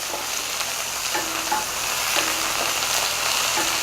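Onions sweating in a pan sizzle steadily with a broad hiss, broken by several soft scraping strokes of stirring, close and fairly loud with no voices.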